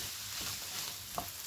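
Onions, mushrooms and peppers fry in a pan, a soft steady sizzle with a brief scrape of stirring, close but quiet, no voices.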